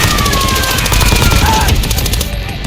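Arena Breakout gunfire: loud, rapid automatic shots in a steady rhythm, close and harsh, firing almost without a break before easing slightly at the end.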